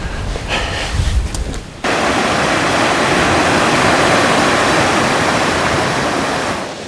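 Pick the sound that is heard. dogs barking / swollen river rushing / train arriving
swollen river rushing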